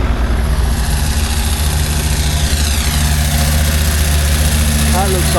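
A Fordson tractor engine, apparently turbocharged, idles at a rural show with a loud, close, continuous low rumble and steady mechanical vibration throughout, with faint voices around it.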